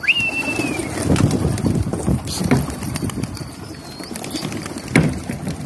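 Pigeons coo in a loft, low throaty calls repeating over a busy background of shuffling, clattering and wing movement, with a thin whistle-like sweep near the start.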